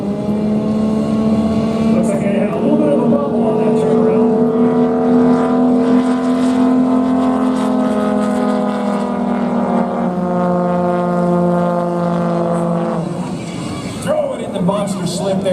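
Yamaha Apex-powered race engines at the Roswell races rev past 8,000 RPM toward nearly 300 horsepower, a loud, sustained, buzzing mechanical whine that climbs and holds before easing off, with a commentator talking over it.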